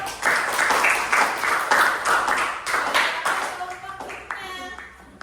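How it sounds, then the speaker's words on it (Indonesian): A class in a school biotechnology lesson claps for a student group after its presentation, in several strong bursts of applause. The clapping tapers off, and a few faint ringing tones follow at the end. "Kasih tepuk tangan dulu."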